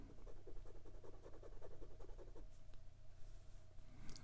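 Hongdian N6 fountain pen fitted with a size 6, 14 karat gold Wing Sung 629 nib writing on paper: faint, soft scratching strokes in a quick, uneven rhythm, heard close and alone.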